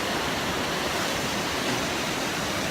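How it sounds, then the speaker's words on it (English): A large waterfall in a canyon just outside Bozeman, Montana roars as a dense, unbroken wash of falling water, loud and close, with no voices over it. "I want to share that little download with you in this epic waterfall out here, just outside Bozeman in Highlight Canyon"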